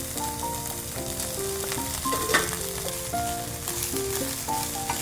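Vegetables and lightly cut garlic frying in oil in a pan, a steady bright sizzle running throughout, with intermittent tonal music and a brief clatter from stirring near the middle.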